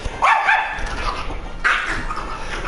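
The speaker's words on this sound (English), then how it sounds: "Dogs, calm down." Dogs indoors bark in two close, loud bursts with whimpering yips between them, agitated after fireworks.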